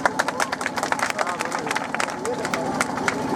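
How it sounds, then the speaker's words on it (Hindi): An audience claps at a school Independence Day program, a quick, uneven patter of many hands close by, with crowd murmur and voices mixed in. "इनके नाम पर एक बार ताली हो जाए"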